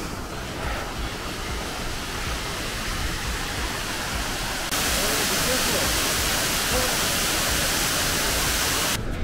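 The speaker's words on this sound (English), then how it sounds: "We reach another waterfall just before Durali." A waterfall on the Annapurna Base Camp trek near Durali roars as a loud, constant rush of water close by, swelling slightly louder partway through.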